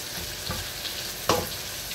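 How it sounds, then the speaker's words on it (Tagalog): Onion and garlic fry in a pan with a steady, close hiss and crackle, broken by a sharp stir or scrape near the end of the short stretch, with no one talking. "Kailangan dito brown ang sibuyas at bawang."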